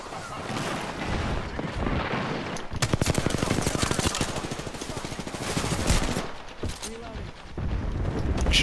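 Artillery strike shelling in the Apex Legends battle royale game hits in a long run of rapid, rumbling blasts, loud and dense, with bursts of gunfire layered in and a voice heard over the barrage.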